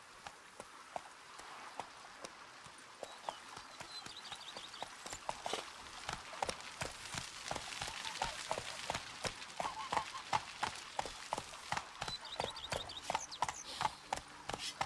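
Roach, the horse in The Witcher 3, gallops in a quick, steady clip-clop rhythm of hoofbeats that builds from lighter steps into a strong, continuous run, with faint game ambience beneath.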